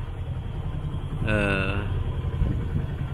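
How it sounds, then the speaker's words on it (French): A sailboat's engine rumbles low and steady under wind noise at sea off Corsica, with a brief rising whine as it turns over and settles into a running drone. "on démarre le moteur."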